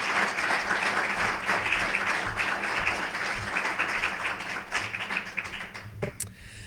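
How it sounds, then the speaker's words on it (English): Steady audience applause fills a hall at an awards ceremony, a dense continuous wash of many hands clapping at moderate distance that thins slightly toward the end. "Everyone, please join me in giving them a final round of applause."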